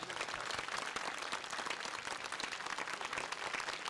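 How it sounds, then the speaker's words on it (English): A university audience at a Republic Day celebration claps together for the soldiers stationed on the glaciers: dense, continuous, even applause from many hands, steady and moderately loud throughout with no voices on top. "Let us go with 30 seconds of clapping, so that clapping should reach the soldiers who are on the glaciers."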